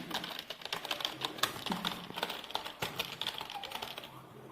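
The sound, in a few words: typing on a keyboard during a typing test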